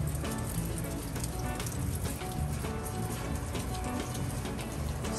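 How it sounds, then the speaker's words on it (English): A dense, steady hiss of rain falling outside during a Texas storm, continuous and fairly loud for the whole stretch. "And it's raining outside."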